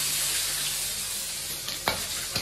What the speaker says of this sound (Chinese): 现在呢，把这个花椒、大料下锅啊